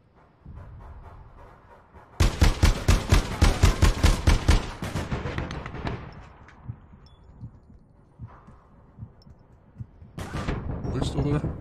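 Bursts of rapid automatic gunfire from a video game weapon, a loud rattling volley followed by scattered shots and a later burst, with a voice talking faintly in between.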